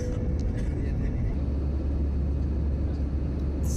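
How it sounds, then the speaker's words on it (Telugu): Steady, loud low-frequency rumble inside an airplane cabin just after takeoff on a flight from Vizag toward Bangalore, continuous and unbroken throughout, with faint higher hiss above. "ఫ్లైట్ టేక్ ఆఫ్ అయింది ఇప్పుడే."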